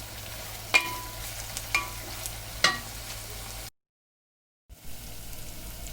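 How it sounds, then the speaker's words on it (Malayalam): Prawns being stirred with salt and turmeric in a pan, giving a low, steady sizzle with a few sharp utensil scrapes and clicks. The sound cuts out completely for about a second before the sizzling resumes. "അതും കൂടി നമുക്ക് നന്നായി ഒന്ന് ഇളക്കി കൊടുക്കാം"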